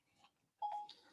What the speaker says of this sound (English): So my phone is trying to get into this conversation with the automatic phone thing.